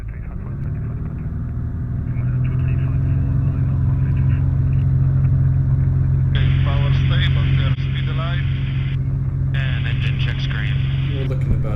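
Pipistrel Panthera with an IO390 engine roaring steadily through its takeoff roll, a loud continuous drone from start to finish, while a voice talks over it and radio-like chatter comes and goes partway through.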